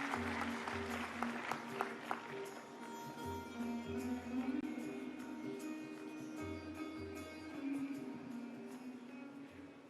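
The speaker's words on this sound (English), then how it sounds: "A round of applause." Faint applause from an audience at the valedictory session of a UNESCO India Africa Hackathon, a few sharp claps first and then a softer spread of clapping under a steady background hum.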